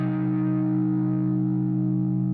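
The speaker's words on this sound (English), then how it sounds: "We're gonna turn it into a diminished chord, which would sound like this." A single sustained distorted electric guitar diminished chord in an open tuning rings out, thick and buzzing, holding steady at constant loudness with no talking.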